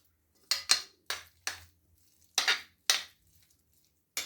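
A spoon scrapes through an egg mayo sandwich filling in a bowl in about seven separate, crisp strokes spaced by short pauses. The strokes are close and clear, with no talking.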